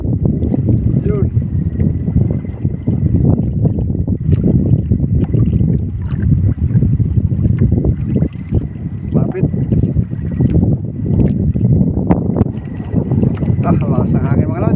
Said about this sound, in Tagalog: Lakas ang hangin mga lods.